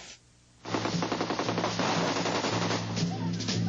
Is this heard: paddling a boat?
no